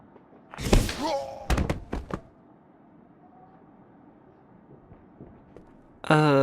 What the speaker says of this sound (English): Hope no one heard the explosion.